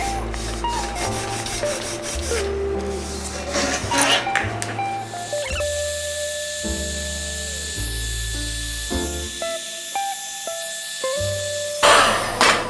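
Wax rubbed by hand into a metal bicycle frame, a steady scrubbing friction that runs throughout beneath fairly loud background music.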